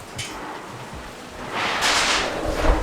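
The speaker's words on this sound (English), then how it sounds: "be careful, guys, because it's still raining." Heavy typhoon rain during Typhoon Ursula in the Philippines, a steady broadband wash that swells louder in the second half, close and continuous with no voices.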